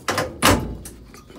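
A car door on a fire-damaged vehicle with a melted carburetor is forced open: a sharp thunk and creak, then a heavier clunk and fainter rattles, close by with no voices.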